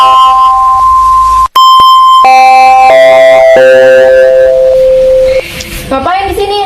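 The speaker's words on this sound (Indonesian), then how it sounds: "Udah bunyi bel, sana masuk." A school bell rings in a series of clear electronic chiming tones that step through a short melody, loud and close, followed by a brief noisy moment at the end.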